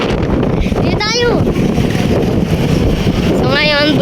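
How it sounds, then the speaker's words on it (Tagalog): Strong wind buffets the microphone outdoors on a school's first day, a loud steady low roar throughout, while bird-like chirps rise and fall twice in the background. "ang lakas ng hangin"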